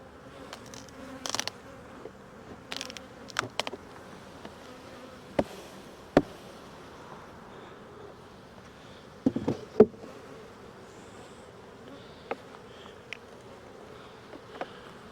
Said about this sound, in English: We definitely have plenty of bees.